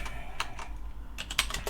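Keys on a computer keyboard clack in short irregular bursts, close and fairly quiet, over a low steady hum and without any talking.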